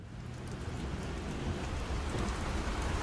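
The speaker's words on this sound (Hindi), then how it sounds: "तेज बारिश और पथरीले रास्तों को चीरती हमारी कार उस गांव की तरफ सरपट दौड़ रही है" Heavy rain drums steadily on a car driving over rocky roads in Meghalaya, a dense continuous wash of noise with no voices.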